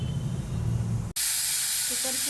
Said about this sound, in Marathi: कुकरची एक शिट्टी झाली